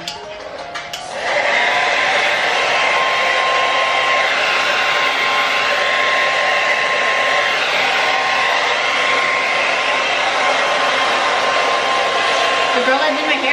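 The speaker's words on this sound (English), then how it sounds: "I never use a blow dryer." A hair dryer roars steadily and loudly after a brief quieter start, a continuous airy whoosh with a faint steady whine running through it.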